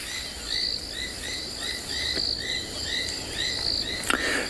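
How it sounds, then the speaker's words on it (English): Southern foam-nest frogs and sand frogs call at a Kalahari reserve around sunrise after heavy rain, a steady chorus of repeated high chirps and trills layered over a constant background hiss. "we can hear both southern foam-nest frogs and sand frogs calling"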